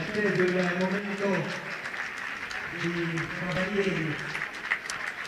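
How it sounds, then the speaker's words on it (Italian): A festival crowd at the Festa del Redentore in Nuoro applauds the women in traditional dress, a broad wash of clapping running underneath a prominent voice that carries on throughout. "Grandi applausi per le donne."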